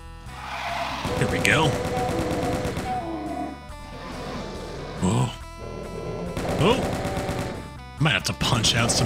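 Rapid gunfire in a horror-themed first-person shooter, heavy machine-gun-style bursts and blasts over a busy music and effects bed, with a few sharper crashing hits near the end.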